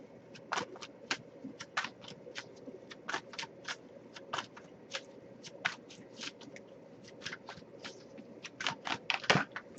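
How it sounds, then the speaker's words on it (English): Tarot cards are shuffled in repeated bursts of crisp riffling clicks, close and fairly quiet, with steady rhythmic flurries throughout and no talking. "we'll pull a random card, but we'll shuffle a little longer"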